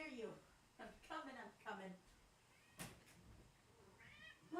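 A house cat meows several times in short, rising calls near a room door, quiet and close, interleaved with someone talking to it.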